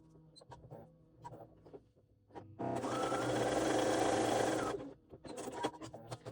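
A sewing machine bastes a seam on a waist pack in one loud, continuous run of about two seconds, bracketed by soft handling clicks and rustles.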